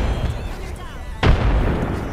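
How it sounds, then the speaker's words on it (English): Grenades go off in the video game Apex Legends: one heavy, sudden boom lands midway through a noisy stretch of game sound, with players chattering over it. "I'm throwing grenades."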